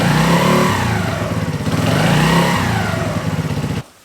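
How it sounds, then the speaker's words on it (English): A Polaris Outlaw 50cc ATV's small engine revs up in a quick burst, holding loud and close with a buzzy, pulsing tone for a few seconds before cutting off abruptly. "I'm going to give it a quick rev"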